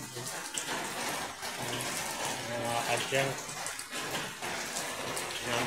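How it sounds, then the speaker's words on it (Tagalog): A steady rush of heavy rain pours throughout, with a person talking over it in short phrases. "lakas ang ulan dito sa amin"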